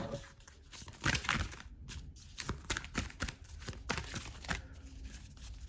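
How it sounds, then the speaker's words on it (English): Oracle cards are shuffled by hand close up in a quiet room during a card reading, with a run of crisp, papery riffles and rustles coming in uneven bursts. "shuffle it on camera."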